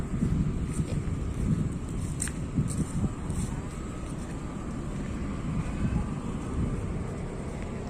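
Steady wind rumble and low broadband motor noise at the Ichuli launch ghat, a river ferry landing, with boats moving nearby and faint high hiss throughout; no talking.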